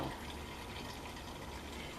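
Beet juice trickles and drips steadily from a juicer into a sink, a soft, continuous wet patter heard close and quiet, with no one talking.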